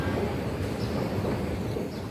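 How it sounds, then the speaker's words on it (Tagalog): A metro train rumbles steadily nearby at an MRT station in Singapore, a low, continuous roar with faint rail noise, no voices over it. "MRT station."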